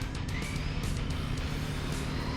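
A stock Traxxas Maxx, Kraton or Outcast RC car runs at full throttle down a street, its electric motor a steady, loud, high whine with constant road rumble and no pauses.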